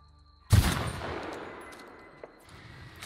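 A single heavy gunshot in the sci-fi game The Outer Worlds, a loud close blast with a long decaying roar and a faint click afterward.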